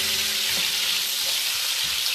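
Onions fry in a pan with a steady, close sizzle and crackle that continues evenly throughout, with no talking.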